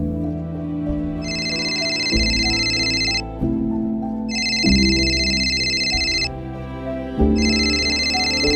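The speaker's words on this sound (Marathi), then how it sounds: "मला वाटतं त्यांचाच फोन असावा." A telephone rings in repeated electronic bursts, three rings spaced across the moment, over a steady backdrop of music with sustained low tones; no voices are heard.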